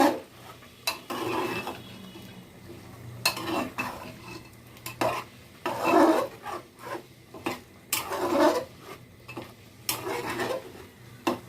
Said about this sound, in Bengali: এখন আমি মাংসটাকে ভালো করে লেগে দিব